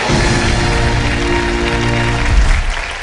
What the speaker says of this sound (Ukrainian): Ваші оплески, Олександр Пономарьов, Ірина Кулик.